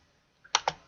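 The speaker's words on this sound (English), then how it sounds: "I'm pressing Control and I click" Two quick computer keyboard clicks, close and crisp, about a tenth of a second apart, as the Control key is pressed and a click is made, with a faint lighter tap just before.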